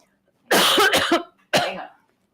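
Two harsh coughs close to the mic, the first a doubled burst, the second a single cough a moment later.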